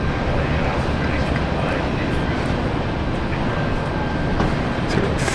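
A Royal Flying Doctor Service aircraft approaches runway 19 left at Brisbane International Airport, producing a loud, steady broadband engine roar that fills the whole stretch, with a faint thin tone running through it.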